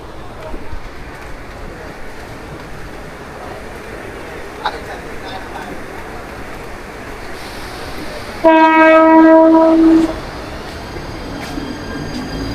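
A 12-car slow local train on the Harbour Line runs in monsoon rain, a steady rumble of wheels and carriage noise broken by a loud tonal horn blast lasting about a second and a half.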